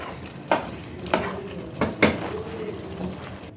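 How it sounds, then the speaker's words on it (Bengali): Homemade beef biryani masala being stirred in a cooking pot, a soft sizzle under four or five distinct scraping strokes of a spoon against the pot, close and moderately quiet with no talking. "এই যে এবার বিরিয়ানির জন্য রাঁধুনি বিরিয়ানি মশলা ব্যবহার করতেছি। তো মশলা কিন্তু দিয়ে দিলাম, এখন হালকা একটু নাড়াচাড়া করব।"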